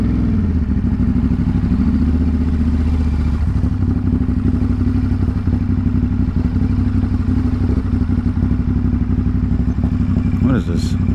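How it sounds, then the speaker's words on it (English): A motorcycle engine chugs loudly and steadily close by on a Brooklyn College campus street, a rough rhythmic rumble with faint voices talking over it. "Look, we got some motorcycles."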